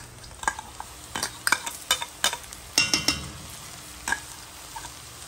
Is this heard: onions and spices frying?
yes